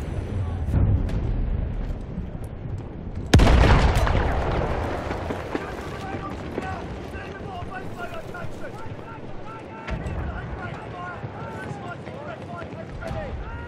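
Naval dreadnought bombardment in the Battlefield 1 video game on the Cape Helles beach: a sudden heavy blast that rumbles and decays into a long roar of wind and distant battle noise.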